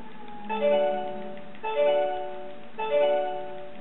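A small McDonald's Sega Sonic LCD handheld game from around 2004-2005 gives three evenly spaced bursts of tinny electronic tones, each a short chiming sequence, close and clear with no talking.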